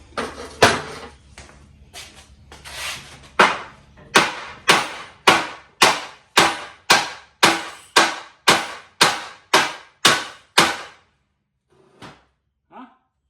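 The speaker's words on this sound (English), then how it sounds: "maybe we're going to have to resort to the hammer" About fifteen hard metallic hammer blows on the universal joint of a Jeep XJ Cherokee, struck in a steady, evenly spaced rhythm, loud and close, after a few scattered knocks and before two faint taps.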